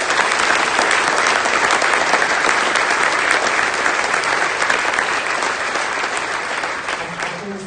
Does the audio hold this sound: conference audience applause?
yes